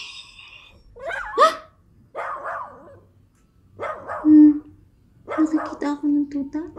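Puppy barks used as a sound effect in a 2022 university stage play, a few short yips and barks spread across the clip, mixed with stage voices and moderately loud.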